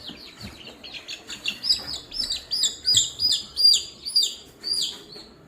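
Young fighting chicks chirp in a quick run of high, sharp peeping calls, several birds close by, rising and falling in uneven bursts with no talk.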